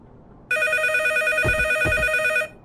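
In the horror game DOOMED, a lone phone on a table in a bloody room rings with a steady, loud electronic trill for about two seconds, with a couple of soft low thumps beneath it.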